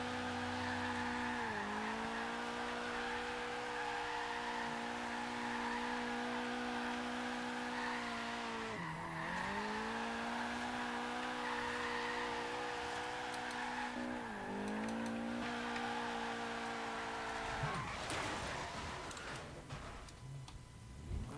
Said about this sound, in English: the 240 can definitely be drifted like you stole it